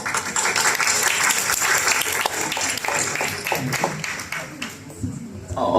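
Audience breaks into lively applause ahead of an undergraduate research presentation, dense clapping that thins toward the end as a voice briefly speaks.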